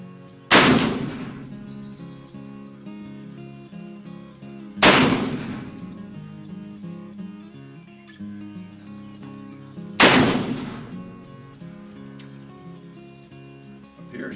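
A Pietta 1858 Remington black powder revolver fired at cans, three loud, booming shots roughly five seconds apart, each followed by a long, rumbling decay outdoors.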